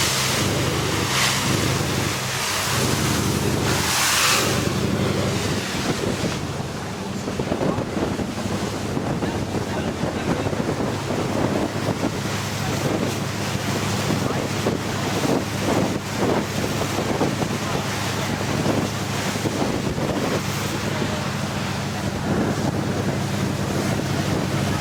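Strong wind buffets the microphone over the rush of waves and water around a moving boat at sea off Koh Phi Phi, Thailand, loud and continuous for the whole stretch.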